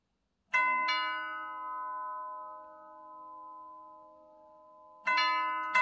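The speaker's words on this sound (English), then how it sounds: "I'll ring the doorbell one more time" A three-chime doorbell in a 1951 Seattle house rings with two bright chime strikes that ring out and slowly fade, then chimes again near the end.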